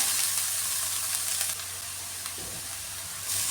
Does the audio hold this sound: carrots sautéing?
yes